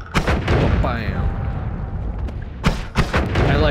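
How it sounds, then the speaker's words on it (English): Chunky explosions in the video game Noita thud and boom in bursts at the start and again near the end, loud and close, with low rumbling in between. "I like that the explosions are nice and chunky."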